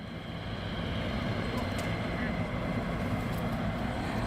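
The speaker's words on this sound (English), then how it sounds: "we have one now taxiing down at the back there" Military jet taxiing at RAF Lakenheath, a distant steady engine roar and whine held throughout at low level, with an announcer talking over it.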